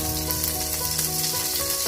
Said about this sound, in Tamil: பேன் கேக் பேட்டர் என்ன பண்ண போறோம்? ஊத்த போறோம்.